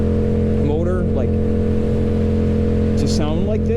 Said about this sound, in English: listen to this thing. You guys have been hearing it the whole time, but like, the Akrapovic exhaust on this